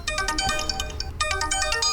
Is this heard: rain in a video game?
no